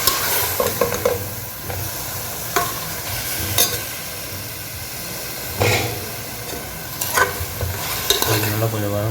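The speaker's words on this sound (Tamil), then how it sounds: "நல்லா கொஞ்சம் வதங்கட்டும்" Beef sautéing in a pan for biryani: a steady loud sizzle and hiss, broken by repeated scraping stirs and occasional clangs from a utensil against the pan.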